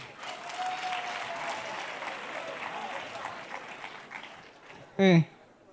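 An audience at a comedy performance by a comedian breaks into sustained applause, a dense wash of clapping filling most of the stretch before tapering, with a brief louder voice near the end.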